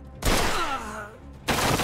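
Gunfire in the video game Mafia II, dense bursts of shots at the start and end with a ringing tail between them, all within a couple of seconds.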